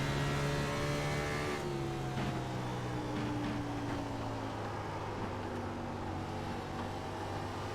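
A race car engine drones continuously on an oval track in a racing video game, holding a steady high tone that gradually eases lower, loud and close with no voices over it.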